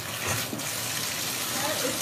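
Blue-tinted tap water gushes steadily from a faucet in a rural Kentucky home, a close continuous rushing flow while a voice speaks over it.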